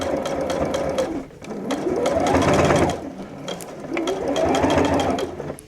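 A Juki sewing machine stitches through thick layers of denim jeans in two loud, close bursts of fast mechanical whirring, with a brief pause between them and no talking.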